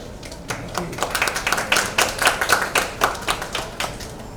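Audience applause at a book launch event, steady overlapping hand claps filling the room at moderate level, with light murmuring underneath.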